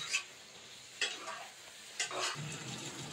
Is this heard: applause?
no